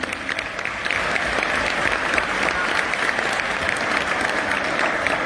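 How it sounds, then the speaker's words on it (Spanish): An audience at a Paraguayan school folklore day event at Colegio Politécnico Cooperativa Kapiatá breaks into dense, sustained clapping that swells after the first second and holds steady to the end. "se merecen un fuerte aplauso a todos"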